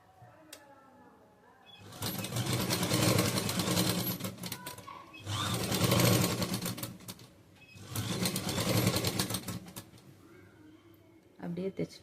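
A sewing machine stitches saree fabric into an umbrella churidar in three long whirring runs, with quiet pauses between them.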